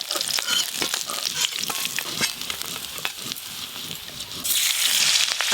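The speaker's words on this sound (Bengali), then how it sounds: "মাছগুলো ভালো লাল লাল করে ভাজা হয়ে গেছে," Pond fish sizzle steadily as they fry in hot oil in a pan, a continuous close crackle with brief stirring scrapes and a louder hiss near the end.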